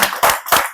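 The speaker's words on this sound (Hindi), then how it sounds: "तो जोरदार तालियों के बीच में बुलाना चाहूंगा देव सर को" An audience claps loudly to welcome a guest speaker at a team-building business talk, with bursts of close, sharp hand claps in quick pulses.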